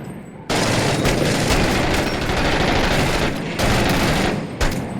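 Sustained gunfire from the Six Days in Fallujah video game, a dense, loud, continuous roar of rapid shots and bursts with brief dips in intensity, no talking.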